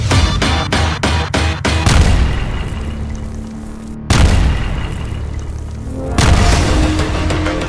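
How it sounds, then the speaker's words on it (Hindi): A rapid burst of sharp blasts gives way to two massive booming explosions, each followed by a long rumbling roar. "धमाका इतना जोरदार था कि मीलों दूर तक इलाका उस धमाके से निकली आग की लपटों से रोशन हो गया।"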